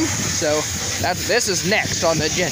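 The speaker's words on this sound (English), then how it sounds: "my dad is power washing over there on another item" A pressure washer hisses steadily in the background while someone cleans a cattle trailer part outdoors, its constant spray noise running under a person talking close by.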